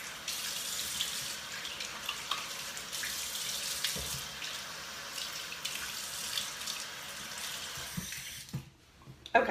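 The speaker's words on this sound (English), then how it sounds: "Let me rinse my face." A tap runs steadily into a sink while a face is rinsed, close splashing water that continues for most of the stretch before cutting off near the end.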